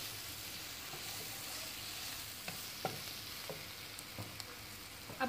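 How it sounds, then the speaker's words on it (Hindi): A spoon stirs veg pasta with chicken powder in a pan, producing soft scraping and faint sizzling under a steady low background, with a few light clicks near the end. "इसको अच्छी तरह से मिक्स करेंगे।"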